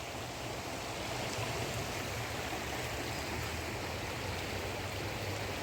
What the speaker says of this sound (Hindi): माँ गंगा की कलकलाती हुई आवाज़